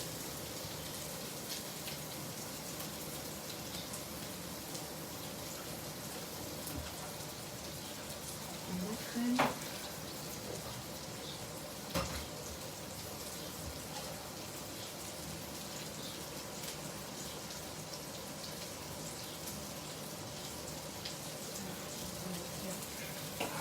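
Shrimp fry in a little oil in a pan, a faint steady crackling sizzle like light rain with a few louder pops, and a voice talks softly at moments.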